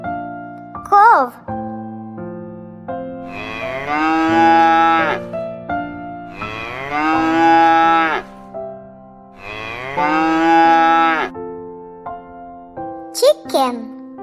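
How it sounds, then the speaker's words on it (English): A cow moos three times, each a long, loud, drawn-out low call, with a light musical accompaniment and short chirpy notes between them. "Cow."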